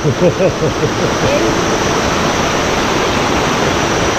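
Ton Tae Waterfall in Trang, Thailand, a constant broadband roar of falling water close by, with a few brief voices at the start before the rush continues alone.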